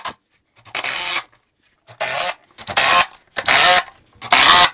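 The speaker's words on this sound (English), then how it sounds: "We're going to tip our cabinet to the back and screw it on." Screws being driven to fasten a bun feet plate onto the bottom of a wooden cabinet tipped onto its back, five loud grinding bursts of about half a second each, separated by short silent pauses.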